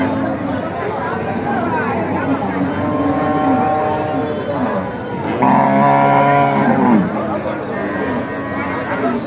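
Cattle low repeatedly over constant crowd chatter at a rainy outdoor cow market, with one louder, nearer moo standing out midway, amid talking voices throughout.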